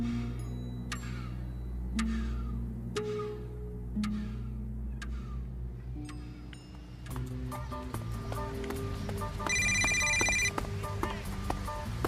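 A telephone rings in a tense dramatic scene, with ticking and clinking tones first, then a burst of bright, electronic-sounding rings toward the end, fairly quiet and heard alone without talk.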